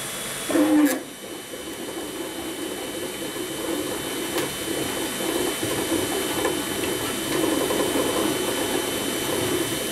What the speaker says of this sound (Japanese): 3D ベンチをわずか18分で出力するデータが入っています。